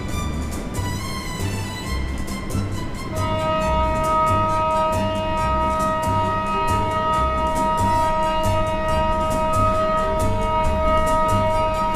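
A steady, sustained outdoor warning siren tone at night near Dallas, Texas, holds over rhythmic music with a pulsing beat, both loud and continuous.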